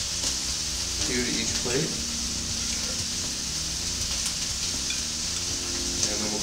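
Steak sizzling in a pan on a home stove during a Valentine's dinner for two, a steady low crackle and hiss running throughout beneath a person talking while plating.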